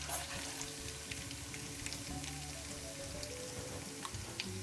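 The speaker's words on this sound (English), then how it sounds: "a bit of thyme just to season the oil a little bit before I add my puree" Thyme frying in hot oil for jollof rice crackles with a dense, even sizzle and scattered pops, steady throughout the short stretch.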